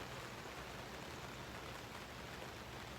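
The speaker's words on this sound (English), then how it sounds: "Don't know if you can hear that rain in the background." Steady, soft hiss of rain falling, an even wash of noise with no breaks, faint and distant-sounding.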